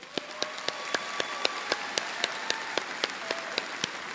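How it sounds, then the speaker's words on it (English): A crowd at a senior recognition event applauds graduating seniors with steady clapping, the individual sharp claps evenly spaced and clearly heard over a continuous wash of applause. "Can we give them a round of applause?"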